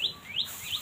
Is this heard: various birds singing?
yes